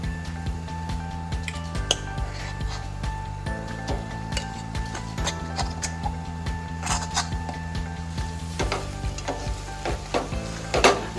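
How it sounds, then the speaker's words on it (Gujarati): A spoon stirs mawa into an orange barfi mixture with ghee in a pan over a low-medium flame, with repeated scraping and clinking strokes over a soft continuous sizzle and a steady background hum. "હવે આપણે માવો મિક્સ કરી દઈશું બધો"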